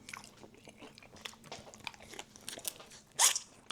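Crisp, crunchy bites into grilled chicken wings with a Louisiana dry rub, a series of close dry crunches and chewing building to one loud sharp crunch near the end.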